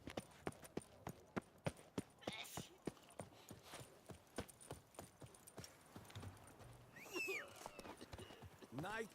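A horse galloping in The Witcher 3: Blood and Wine, with a fast, steady run of hoofbeats that slows toward the end as a short whinny and snorts break in. A voice talks over part of it.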